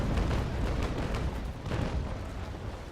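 Frigate broadside cannon fire in Naval Action keeps rumbling and booming throughout, a dense, heavy roll of overlapping blasts that stays loud for the whole stretch.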